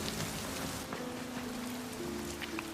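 Steady, dense rain pours onto a surface close by, a continuous hiss with scattered drop taps and a low hum running beneath, no voices.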